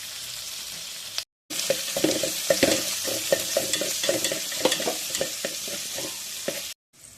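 Green chillies fry in hot oil with fennel seeds and curry leaves, crackling and sizzling steadily while a spoon stirs in a quick scraping rhythm, close and fairly loud; the sound cuts out briefly twice.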